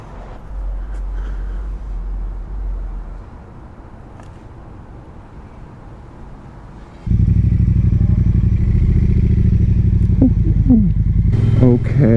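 A Triumph Bobber motorcycle rides off, its engine loud and steady with a deep, continuous rumble that grows heavier partway through, while a voice talks over the ride.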